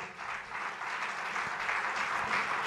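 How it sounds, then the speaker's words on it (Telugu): Audience applause at a church sermon by a pastor, a steady dense wash of clapping filling the room for nearly three seconds without pause. "నేను ఒక యుద్ధం గెలిచినానంటే మీరు చప్పట్లు కొట్టాలి నాకు"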